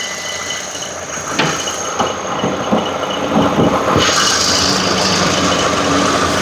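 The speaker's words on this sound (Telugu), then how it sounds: "ఇంజన్ వచ్చేసి నేను స్టార్ట్ అయితే చేసి పెట్టినాను" A Hyundai i10 Asta CNG/petrol car engine idles steadily with a low rumble, with a few brief knocks and clatters partway through.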